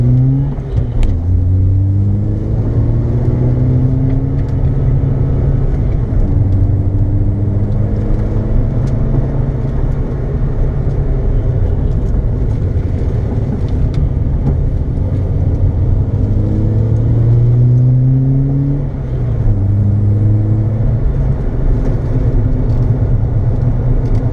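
A race car engine drones steadily throughout on a track at Three Sisters, Wigan, its pitch rising and falling with repeated revs and gear changes, loud and close as if heard from inside the vehicle.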